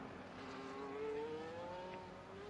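Onboard McLaren race car engine in a racing video game, a steady high-pitched whine climbing in pitch as the car accelerates, loud and continuous with no talk.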